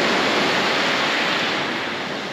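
Steady, loud rush of sea waves washing onto a beach in Turkey in mid-November, a continuous broad wash of surf with no voices.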